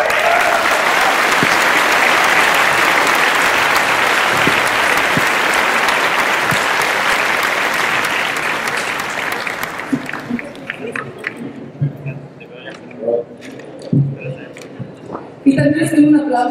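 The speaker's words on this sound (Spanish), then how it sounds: "Y les pido un aplauso" At a press conference in Mexico, the room gives loud, dense applause for about ten seconds, then the clapping thins into scattered claps and murmuring voices.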